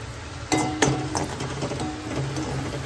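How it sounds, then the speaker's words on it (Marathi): Chopped onion fries in a pan for lemon coriander Maggi noodles, giving a steady close sizzle broken by a few sharp clinks and scrapes as a spoon stirs. "तर पहिला आपण टाकायचा कांदा आणि मग नंतर थोडा ह्याला लालसर झाला की यात लसूण टाकायचं"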